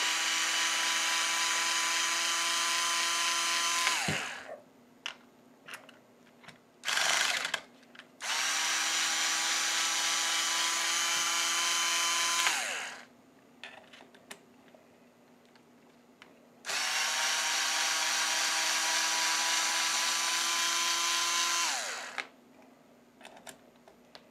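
Cordless power driver runs bolts on a Team Associated B6 RC buggy with the clutch still set for assembly: three long, loud whirring bursts of several seconds each, separated by short pauses and a quick blip, with no talking.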